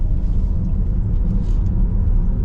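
A 2023 BMW XM on a mountain drive gives off a steady, loud low engine and exhaust rumble while cruising, continuous and close with no talking.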